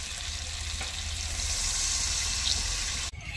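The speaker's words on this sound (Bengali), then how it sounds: "এবার পরিমাণ মতো জল দিয়ে দেব" Water pours steadily into a hot pan of katla fish curry with elephant yam and potatoes, a loud close hissing sizzle that runs for about three seconds before cutting off abruptly.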